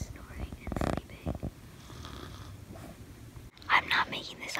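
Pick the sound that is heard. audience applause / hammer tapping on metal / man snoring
man snoring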